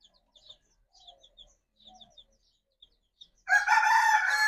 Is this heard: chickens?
yes